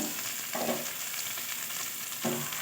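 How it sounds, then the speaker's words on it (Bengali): Meat stir-fried in a pan for mixed fried rice crackles with a steady close sizzle, broken twice by brief scraping stirs of the spatula. "ঢেকে সুন্দর করে নেড়ে ভেজে নিয়েছি"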